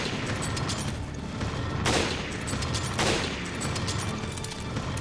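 Gunfire in the Resident Evil Revelations video game, Abyss Raid Mode: a steady, dense fusillade of shots with two heavier blasts standing out about a second apart, loud and continuous throughout.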